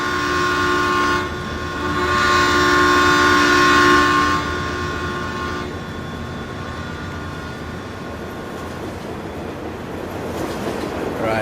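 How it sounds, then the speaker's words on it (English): A loud train passing in the Farming Simulator 19 video game, a steady heavy rumble with a sustained horn-like tone for the first several seconds that drops away, leaving a rolling rail roar, no talk. "Comes that train. God, that thing is loud."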